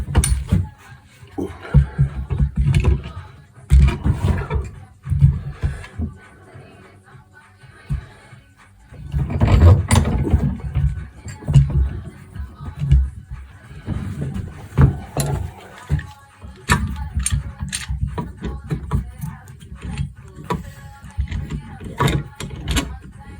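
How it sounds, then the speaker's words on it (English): Clamps being wound and tightened around the glued joint of a wooden shinty stick under repair, irregular knocks, clicks and metallic rattles close by, with intermittent talk. "we're just going to follow around now with some more clamps."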